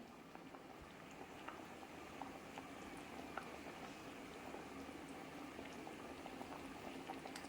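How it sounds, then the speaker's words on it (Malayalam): Fish curry bubbling steadily in a pot, a soft continuous boil with small pops and gurgles that stays even and close throughout. "മീനൊക്കെ തിളച്ച് വരുന്നുണ്ട്."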